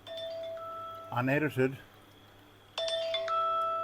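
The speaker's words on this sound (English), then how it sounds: "Phone call." An incoming call sets a phone ringing with a bright, chiming tonal ringtone; someone briefly speaks over a pause in the ring, then the melodic tones start again, clear and close.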